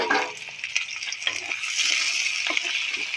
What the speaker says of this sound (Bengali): পেঁয়াজ কালিগুলো দিয়ে দিলে